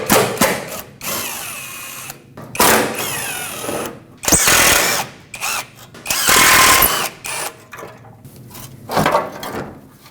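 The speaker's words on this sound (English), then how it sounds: "there are 4 more screws that we need to remove here" A power drill removes screws and 10mm bolts from the under-radiator shield of a Nissan Frontier 2.5L L4, in repeated loud whirring bursts with short pauses and small clicks between them.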